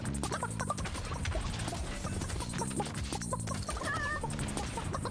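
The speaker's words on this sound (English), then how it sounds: "Oh, two of us are chickens." Chickens clucking in the video game Realm Royale, several close, repeated clucks over a busy backdrop of footsteps and game effects.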